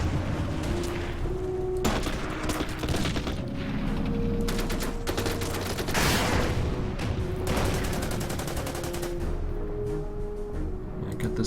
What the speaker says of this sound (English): Hit the tanks with the artillery.